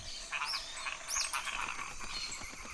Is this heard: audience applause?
no